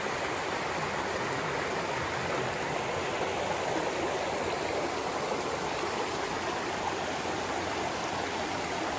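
A small stream flowing, a steady, even rush of water that stays constant and fairly close throughout, with no voices over it.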